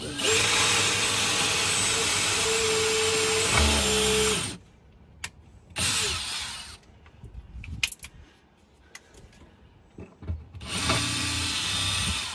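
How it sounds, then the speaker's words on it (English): A power drill whines loudly and steadily for several seconds, stops amid scattered knocks and brief talk, then starts up again. "Go to the very bottom and drill a hole and see what happens."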